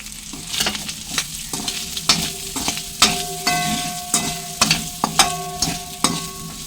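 Mutton liver frying in a pan, a steady sizzle broken by repeated sharp scraping strokes of a spoon stirring the pieces, close and fairly loud, with no talking.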